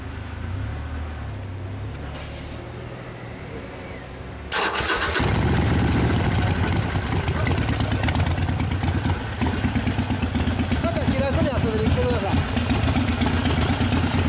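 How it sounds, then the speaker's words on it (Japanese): Quiet background, then a 2012 Harley-Davidson Sportster XL1200CA with a Vance & Hines exhaust cranks and fires up abruptly, settling into a loud, steady idle close by. "エンジン音聞かせてもらえますか"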